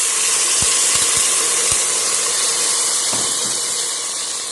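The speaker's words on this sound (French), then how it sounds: "Et je vais rajouter juste un peu d'eau." Water pours into a hot pot of Ivory Coast style fisherman's soup with a steady, loud hissing rush, a few low thumps early on, and no talking.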